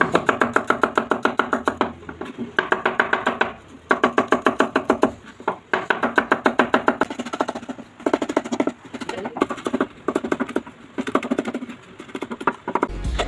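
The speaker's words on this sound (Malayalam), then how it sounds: "ഇനി നമ്മുടെ പരിപാടി ഉള്ളിയും വെളുത്തുള്ളിയും ഇഞ്ചിയും അരിയുക എന്നതാണ്" Rapid, steady knife chopping of onions, shallots, garlic and ginger on a board, sharp rhythmic taps in quick bursts with brief pauses, close and fairly loud, no talking.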